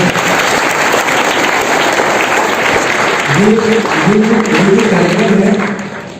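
A crowd at a district youth conference applauds in welcome of the chief guests, loud sustained clapping that fills the hall, with a voice speaking over it before the sound tapers off at the end.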